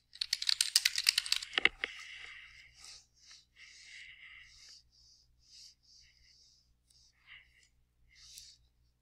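A computer keyboard rattles with a quick burst of close, dense typing, followed by softer scattered clicks and faint breathy noises in a quiet room.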